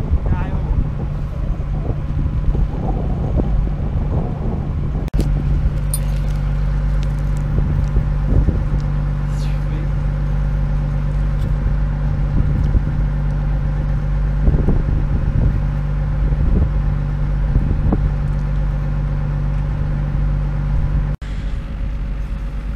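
A sailboat motors out of the bay on its engine when leaving Marie-Galante, with a steady humming drone, wind buffeting the microphone, and people talking over it throughout.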